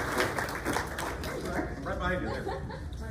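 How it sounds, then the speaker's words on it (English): A graduation audience applauds its milestone members at a morning community gathering, the clapping loose and moderately close, with chatter and a little laughter mixed underneath. "Let's give a round of applause to all of our milestone members."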